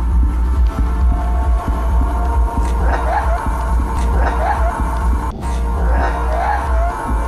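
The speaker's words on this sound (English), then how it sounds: "a neighbor is playing some creepy dance music that has a heartbeat and bass turned up loud enough to make the walls shake" Creepy dance music from a neighbour's flat comes through the walls, with a steady throbbing heartbeat-like bass pulse, loud and muffled, with faint higher tones drifting over it.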